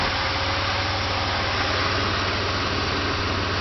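A used engine in a Pontiac Grand Prix GTP runs steadily after a motor swap, giving a continuous low rhythmic hum with broadband mechanical noise and no voices.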